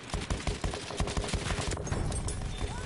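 Battlefield gunfight with rapid rifle and machine-gun shots crackling in quick succession, dense and loud throughout with little pause.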